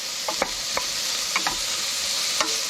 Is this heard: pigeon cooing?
no